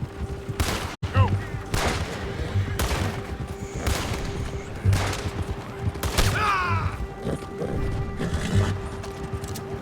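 Scattered gunshots ring out during a video game story mission at Beaver Hollow. Sharp, separate cracks come every second or so over a busy background with horse sounds.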